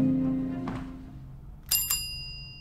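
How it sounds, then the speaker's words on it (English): A bright two-tone chime rings out near the end, ringing briefly after a soft low hum and a faint knock. "accentuate the sound of the doorbell"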